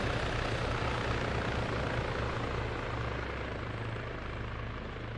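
Helicopter rotor and engine drone in the video game Arma 3, a steady, close, continuous whir with a low rhythmic blade thump throughout, no voices.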